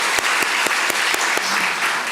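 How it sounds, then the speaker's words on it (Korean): A church congregation claps together at an evening worship service, a steady wash of applause with a few sharper individual claps standing out, fairly loud and close. "다시 한번 박수로 정말"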